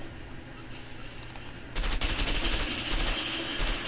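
An M16 rifle in the video game A Way Out opens up partway through after a quieter start, then fires continuously in fast, loud, close shots until the end.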